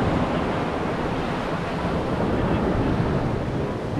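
Steady roar of surf washing onto a remote Pacific beach in Olympic National Park, constant and broadband with wind noise buffeting the microphone, no voices.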